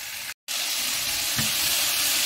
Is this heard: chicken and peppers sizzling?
yes